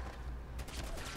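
Gunfire in Fallout 4: a dense volley of rapid shots erupts partway through, following a steady low game rumble, loud and close.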